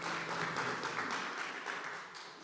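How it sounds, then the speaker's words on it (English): An audience at a digital inclusion policy and leadership event in Detroit gives a steady round of applause, dense clapping that fills the room and slowly tapers off. "another round of applause for Robin."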